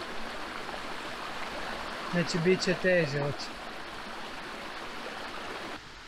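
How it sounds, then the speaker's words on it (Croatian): A mountain stream and waterfall below Pliješ on Žumberačka gora rush with a steady broadband hiss, while someone speaks briefly over the water midway. "Sad smo na kamenu iznad Slapa, vidite Slap."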